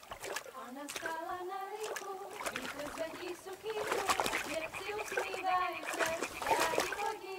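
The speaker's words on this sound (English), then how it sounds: "Throw a stone in the water near her to lure her away." A stone splashing into water in the Kingdom Come Deliverance II video game, with a splash and sloshing among voices talking that carry on throughout.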